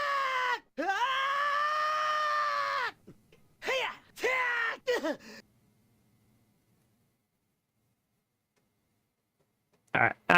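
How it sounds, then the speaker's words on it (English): Dramatic screams from the Link character in a video game, several loud drawn-out cries and shorter yelps in a burst, then silence before one final short cry at the end. "The screams on Link are so dramatic."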